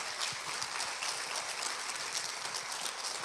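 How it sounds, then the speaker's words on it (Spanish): Steady, dense clapping from a church congregation applauding Christ during a sermon, sustained and even throughout, at moderate volume with no voices over it. "Dele un fuerte aplauso a Cristo Jesús."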